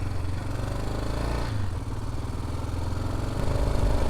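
A Yamaha Ténéré 1988 motorcycle engine chugs and rumbles steadily up close on a dirt road, its rattly low throb picking up with revving toward the end, no talking.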